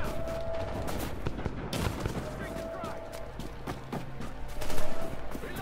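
Machine gun fire in The Division, a video game: sharp bursts of automatic shots rattle through the whole stretch, some shots close and loud, with one heavier burst near the end.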